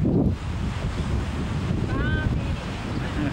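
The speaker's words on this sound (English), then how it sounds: "very windy right now." Strong cold wind buffets the microphone on the Cape Cod coast, a continuous low roar with surf noise underneath and a brief faint tonal whistle midway.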